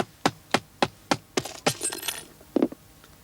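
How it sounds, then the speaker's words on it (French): A hammer strikes a watch covered with a handkerchief, about six sharp evenly spaced knocks followed by a brief metallic clatter and one last thud. "je recouvre votre montre d'un mouchoir, voilà, et je donne quelques coups de marteau"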